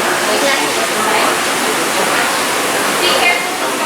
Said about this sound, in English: You can hear the sprayers right now.